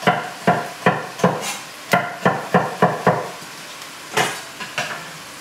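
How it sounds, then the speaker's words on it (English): Roughly chopped celery is stirred in a hot pan, with a series of sharp, rhythmic scraping and clanking hits from the utensil against the pan over a light sizzle, close up and with no voices. "Throw your celery in there, give that a stir."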